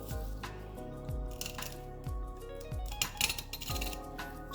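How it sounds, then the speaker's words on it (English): A knife scrapes along the tailbone of a walleye during filleting, a repeated rough grating and clicking in short strokes, close by and without talk, over a low background hum. "I'm riding the tailbone. I'm separating the meat from the bone."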